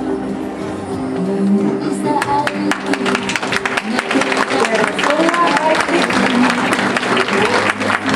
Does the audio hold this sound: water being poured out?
no